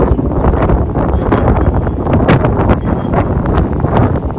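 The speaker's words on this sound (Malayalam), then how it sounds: "ഈ കാറ്റ് വീശുമ്പം നമ്മൾ പറന്നു പോകുമെന്നൊക്കെ അനുഭവിച്ചു." Strong wind roars across a hilltop near Palani, buffeting the microphone in loud, continuous gusts with no talking.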